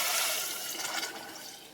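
Two and a half glasses of water pour into rice in a pressure cooker for gongura paneer biryani, a brief rushing splash that starts strong and slowly fades.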